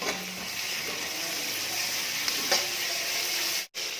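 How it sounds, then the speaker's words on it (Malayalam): Chicken gizzard and liver sizzle steadily in a frying pan while being stirred, a constant close crackling hiss with faint scraping of the spoon, no talking. "നമുക്കൊന്ന് നന്നായിട്ടൊന്ന് ഇളക്കി കൊടുക്കാം."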